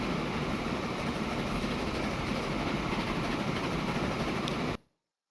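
A train in the simulation game Transport Fever 2 rolls along the line with a steady rumble and rhythmic clickety-clack of wagons, loud and continuous, then cuts off abruptly near the end.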